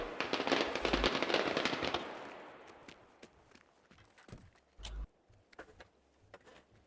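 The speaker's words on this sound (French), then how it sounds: "Les pétards." Firecrackers popping in the video game Generation Zero: a dense, crackling burst of rapid bangs for about two seconds, then thinning into scattered, fainter pops and a couple of louder isolated cracks.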